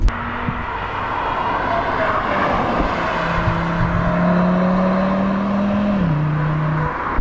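An Audi RS3 engine accelerating, a loud steady roar with a rising tone that holds, then a gear shift lowers it slightly before it climbs again, heard continuously from inside or near the car with no talk.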